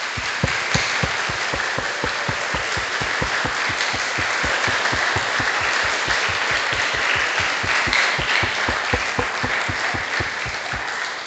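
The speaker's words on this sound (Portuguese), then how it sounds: "uma salva de palmas para Jesus" Sustained applause from the audience at an Easter church talk, with steady, rhythmic group clapping that stays loud and continuous from start to finish.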